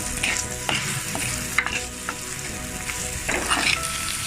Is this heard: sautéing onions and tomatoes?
yes